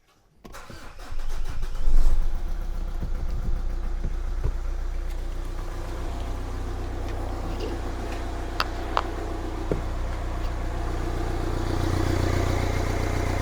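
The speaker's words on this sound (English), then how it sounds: "Next thing we're going to do is we're going to start the engine" A Renault Scenic with a newly replaced alternator cranks briefly and fires, then settles into a steady close idle with small clicks and faint rattles over the hum.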